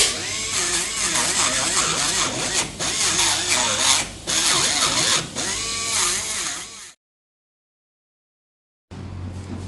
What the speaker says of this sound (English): I'm going to grind a hole using an acrylic burr